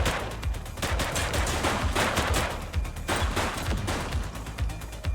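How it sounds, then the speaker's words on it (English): Sustained gunfire erupts in The Precinct police video game, loud rapid automatic bursts and overlapping shots forming a dense, continuous fusillade with no talk over it. "Light them up! He's shooting!"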